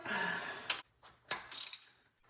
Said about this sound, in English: Let's torque them to spec.